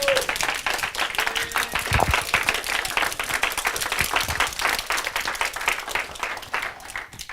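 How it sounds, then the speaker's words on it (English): An audience at a live business event breaks into sustained applause, many hands clapping in a thick, even wash with occasional sharper claps and faint crowd murmur beneath. "just another big round of applause for Casey"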